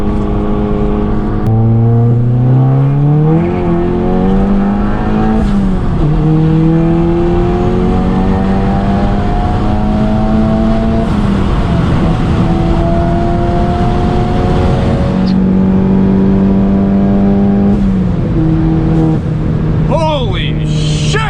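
EQT-tuned Volkswagen MK7 accelerating hard through the gears, the engine rising in pitch, dropping at each shift and climbing again, loud and close from inside the car, with a voice talking over it.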